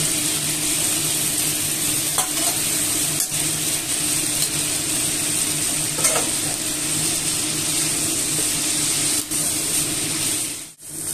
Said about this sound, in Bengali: শাকটা দিয়ে একটু কষিয়ে নিচ্ছি।